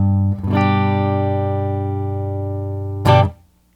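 Clean electric guitar through a Princeton Reverb amp with the reverb at zero: a single strummed chord rings out steadily, bright and dry, then a short scraping pick or string noise closes it.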